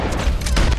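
A headshot gunshot in Red Dead Redemption 2, heard as a loud, booming blast with a sharp attack inside sustained low rumbling game audio, lasting under a second.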